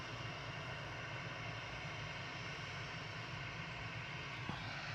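An airliner taxis out at Manchester Airport, its engines making a steady, distant, even drone that holds without a break throughout.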